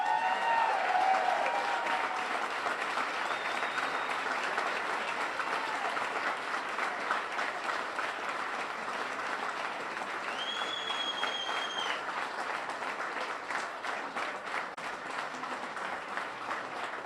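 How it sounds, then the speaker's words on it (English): Sustained applause fills the room for campaign staff during a congressional victory speech, a steady dense wash of clapping from a large crowd that carries on without a break across the whole stretch. "I'd love to give them a round of applause."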